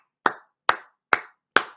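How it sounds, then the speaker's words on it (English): Four single hand claps spaced evenly about half a second apart, sharp and close, each with a brief decay into silence. "Zed Key, let me give you a hand clap, man."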